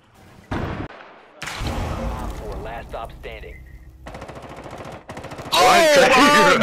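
Gunfire in the Rainbow Six Siege video game: loud bursts of rapid automatic fire and single shots in several separate bursts, with voices and game effects between them and a heavy burst at the end.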